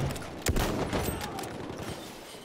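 Battlefield 1 multiplayer gunfire on a Conquest match, with a sharp nearby shot followed by a steady stream of overlapping distant rifle and machine-gun fire filling the whole stretch.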